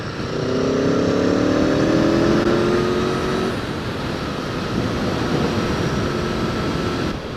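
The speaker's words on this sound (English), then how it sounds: "Surely this car's going to go." A car passing on the road, heard from a rider on a 2019 Aprilia Tuono V4 1100 Factory: steady loud engine and road roar with a rising tonal whine early that fades as the vehicle goes by.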